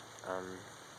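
Steady rain falls outdoors on a cloudy day, a soft constant hiss that swells briefly in the middle before settling back, with no talk.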